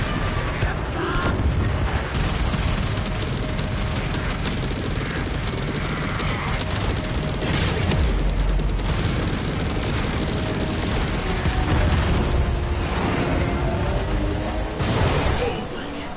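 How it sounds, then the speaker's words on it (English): Torpedoes and heavy ordnance fire from a Railjack spaceship in Warframe, dense rumbling booms and crackling bursts layered over continuous loud combat noise, with a few stronger hits standing out. "Fire torpedoes."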